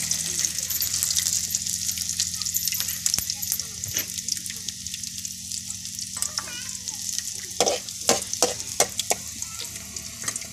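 Garlic hits hot oil for a Maharashtrian buttermilk kadhi, giving a steady close sizzle and frying hiss throughout, punctuated by sharp pops and spoon clinks toward the end.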